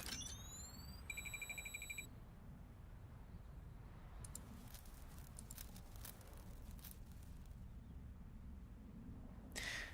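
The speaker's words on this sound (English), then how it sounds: "There's a blinding flare of light and the sound of an alarm" An alarm in the video game Girls' Frontline 2 sounds as a rising electronic sweep and then a steady pulsing tone, followed by crackling bursts over a constant low rumble with no talk.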